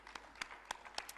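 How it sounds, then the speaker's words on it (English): Sparse claps from an audience at a plenary session in Peacock Hall, heard as about six separate sharp hand claps spread over a second, fairly quiet and distant. "A big round of applause for Xenia."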